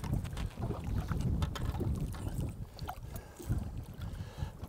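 Wind gusting over a lake during fall bass fishing from a boat, a steady rushing roar buffeting the microphone with low rumble, rising and falling in strength, no talking.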